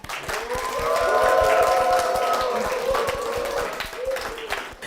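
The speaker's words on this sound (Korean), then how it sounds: "박수로 모시겠습니다." A church congregation claps to welcome a deacon forward, a steady wash of applause swelling then easing, with sustained singing or vocal tones running through it.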